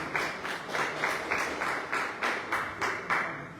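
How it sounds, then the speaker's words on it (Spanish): A church congregation claps for God in a rhythmic, unison beat, about nine even pulses of many hands at a steady moderate pace, somewhat distant and reverberant, with no talking. "Denle un fuerte aplauso al Rey de Reyes y Señor de Señores"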